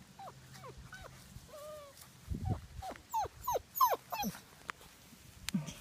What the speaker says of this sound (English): Come on, puppy.